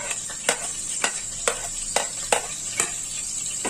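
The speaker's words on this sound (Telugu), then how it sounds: "ఇప్పుడు నెయ్యి కాగిన తర్వాత దీనిలో బిర్యానీ స్పైసెస్ వేసుకోండి" Whole biryani spices (cinnamon, cloves, cardamom, fennel) frying in hot ghee, a steady close sizzle broken by about eight sharp crackling pops at regular intervals as the spices burst, with no talking.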